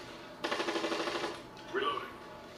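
Gunfire in the Ghost Recon video game: a short rapid burst of about ten shots, fairly quiet and in the middle distance, followed by a brief softer sound.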